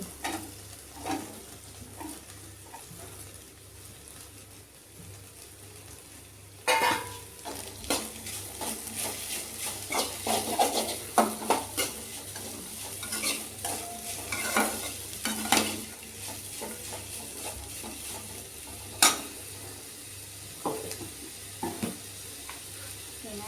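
Onions frying in a pan, with a steady close sizzle broken by repeated scraping and clinking as a spoon stirs them, the stirring busier in the second half.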